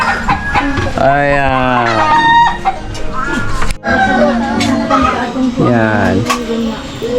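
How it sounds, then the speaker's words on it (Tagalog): Chickens and a rooster clucking and crowing close by, with loud repeated crows and busy clucking at a family gathering, mixed under people chatting and laughing. "at maingay na yung manok."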